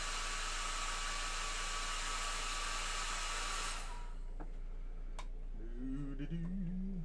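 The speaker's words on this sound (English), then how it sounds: "I got a dryer going, or my hair dryer," A hair dryer roars steadily as loud broadband noise for about four seconds, then cuts off, leaving quiet room tone with a few clicks and a brief voice-like tone near the end.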